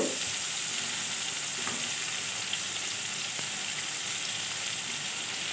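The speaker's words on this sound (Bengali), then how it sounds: "ভালো করে উচ্ছেগুলো আগেই একটু ভেজে নেব" Bitter gourd pieces frying in oil in a pan, a loud, steady, close hiss of sizzling that holds evenly throughout with only faint utensil touches, no voices.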